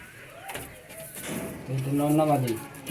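A male Punjabi pigeon in a home loft gives a soft, throaty coo, one rolling call that swells near the end, heard close up while people talk nearby.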